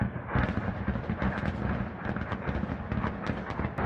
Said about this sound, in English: Explosion after explosion.